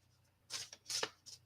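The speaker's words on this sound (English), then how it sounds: "Shouldn't shuffle them too close." A deck of cards is shuffled in three quick riffling bursts, close and crisp, separated by short pauses in an otherwise quiet room.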